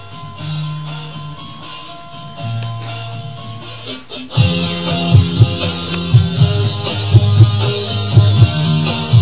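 Music pitched up so the singing takes on a high chipmunk-like quality, playing steadily with a beat that grows louder and busier partway through.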